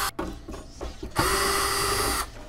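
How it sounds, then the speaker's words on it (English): A power drill whirs while opening the case of a Bitcoin mining machine, preceded by a few clicks and handling knocks, then one loud steady whine of just over a second that stops abruptly. "I'm gonna use a drill to open this guy up"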